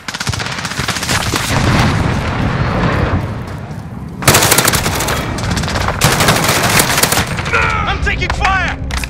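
Heavy automatic gunfire rattles nonstop in the Modern Warfare video game, with dense bursts, booming impacts and louder volleys midway, while voices call out under the battle.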